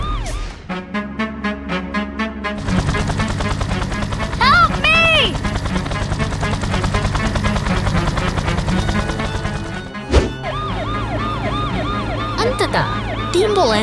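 An ambulance siren wails in an animated cartoon about rescue trucks racing to an accident scene, its rising and falling tones sounding loud and close over a dense music score throughout.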